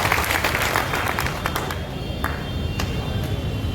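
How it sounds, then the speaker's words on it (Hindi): A crowd claps steadily at a political youth club gathering, a dense wash of overlapping hand claps that holds at an even level throughout, with a few sharper claps standing out. "मैं उनके लिए भी जोरदार ताली बजाऊंगा।"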